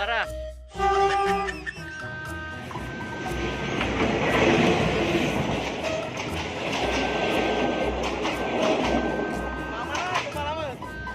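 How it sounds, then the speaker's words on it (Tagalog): A train rolls past close by, a loud rushing rumble with rhythmic wheel clatter and horn-like tones that build and stay loud. Voices talk over it. "Bilis ng train."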